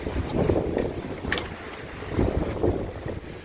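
A sailboat under reefed sail in rising afternoon wind and a building 2 to 3 metre swell off the English south coast, with steady wind roar buffeting the microphone and water rushing and sloshing against the hull throughout, no voices.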